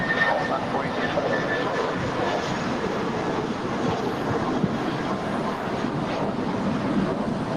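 Airliner roaring down the runway on takeoff at LAX, a steady broadband engine rumble with wind noise, under air traffic control radio talk.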